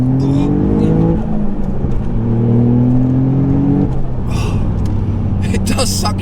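Toyota GR Yaris with a built engine and larger turbo pulling hard under acceleration, a loud, steady engine note rising in pitch through the gears, with a voice talking over it.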